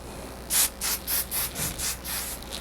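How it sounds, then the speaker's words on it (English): Hairspray sprayed onto freshly curled hair in quick short hissing bursts, about seven puffs in a row, close and fairly soft with no talking. "I don't mind a little bit of hairspray."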